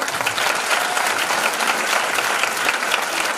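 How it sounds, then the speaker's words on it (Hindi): An audience at a business seminar gives steady, dense applause, a continuous wash of many hands clapping at even loudness for the whole stretch. "हमारे पुराने साथी जब दमदार ताली बजाएं इनके लिए।"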